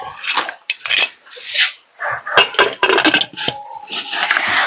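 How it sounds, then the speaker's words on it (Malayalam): A lid goes onto a curry pot in a home kitchen, with a run of close metallic clanks, scrapes and rattles of cookware in irregular bursts and no speech. "ഇനി നമുക്ക് മൂടി വയ്ക്കാം കേട്ടാ."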